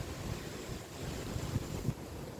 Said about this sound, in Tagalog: maangin hangin Yan, yung mga dahon, sumayaw-sayaw na